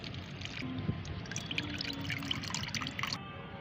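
Homemade liquid plant fertilizer trickles and drips as it is strained, a close, steady pouring with small splashes and intermittent drops, without talking.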